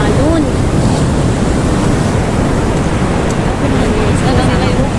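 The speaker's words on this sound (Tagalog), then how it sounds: "Tapos grabe yung alon." Strong ocean waves surge and roll in a steady loud wash, with wind buffeting the microphone throughout.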